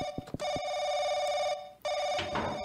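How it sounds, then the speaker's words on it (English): Loud, close telephone bell in the horror game Paranoiac, ringing in two long sustained bursts separated by a short pause, with a few footstep-like thuds at the start and a muffled clatter near the end. "Why does the phone have to be all the way down here?"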